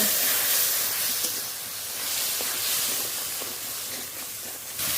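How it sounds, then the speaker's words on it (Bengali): Spice paste with turmeric, salt and a little spiced water is sautéed in oil for a village-style fish curry, making a steady, loud, close hiss that holds throughout. "মশলাটা খুব ভালো করে কষিয়ে নেব"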